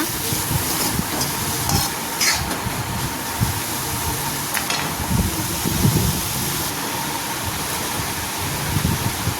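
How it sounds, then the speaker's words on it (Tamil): Garam masala sautéing in a pan for cabbage kurma, a continuous close sizzle with scraping stirs and clinks of the spoon at irregular intervals, no voices. "கரம் மசாலா நல்லா வதக்கிக்கோங்க"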